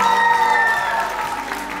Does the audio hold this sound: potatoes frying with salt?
no